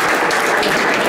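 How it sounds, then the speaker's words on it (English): A conference audience applauds the panelists at the close of an industry Q&A on medical marijuana in Pennsylvania, with dense, loud clapping from the crowd throughout. "You should all give yourselves a big round of applause for your participation."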